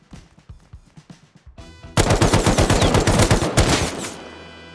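AK rifle fire in the survival video game Rust: a few spaced single shots, then a loud sustained automatic burst of rapid rounds at close range that trails off with echo.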